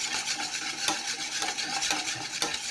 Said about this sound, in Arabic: نبدا نحرك مزيان مزيان